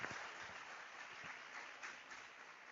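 Crowd in a great hall at a university congregation ceremony keeps clapping, a steady, somewhat distant spread of many hands at moderate level.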